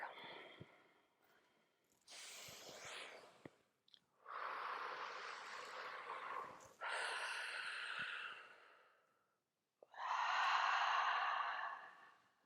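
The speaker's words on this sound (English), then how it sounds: "whether you are in Ujjayi breath or just breathing big breaths out through the mouth, letting go of anything that feels stuck" Big breaths pushed out through the mouth during a Himalayan Kriya Kundalini breathwork class, a series of long breathy exhales and sighs, about four main breaths with short pauses between, close and fairly loud, no talking.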